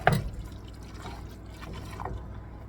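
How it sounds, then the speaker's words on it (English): Beef broth pours into a pot of beef and noodles with a steady, close liquid trickle and splash. A soft knock comes at the start. "I'm going to add some more beef broth."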